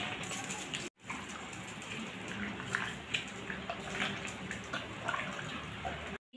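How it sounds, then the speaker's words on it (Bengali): Spice-washing water poured into a pot of chicken for handi chicken, a steady soft splashing and trickling stream that runs for several seconds, briefly cut off near the start and again at the end. "দেখুন সব ধোয়া মশলার ধোয়া জলগুলো একটু দিয়ে দিই"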